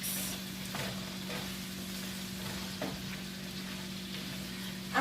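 Shrimp, cabbage and peppercorns in a frying pan over medium heat, a low continuous sizzle with a few soft scraping stirs spread across it, close and fairly quiet, no voices.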